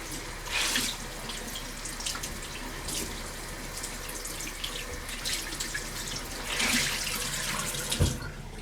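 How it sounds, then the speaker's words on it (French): Running tap water splashing into a bathroom sink as a face is rinsed, a steady close stream with louder splashing bursts as hands scoop water, ending with a brief knock. "Moi, je me rince la figure."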